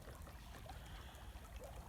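A rain-swollen creek runs fast past thin floating ice and melting ice near a culvert. It makes a faint, continuous rushing wash heard from a distance, even and unbroken throughout.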